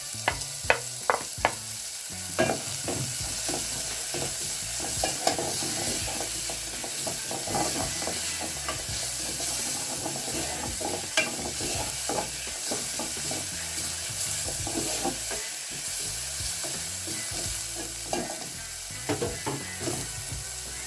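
Onions and ginger frying in a pan for a beef dish, a steady close sizzle broken by repeated scraping and clattering strokes of a spoon stirring, with no talking.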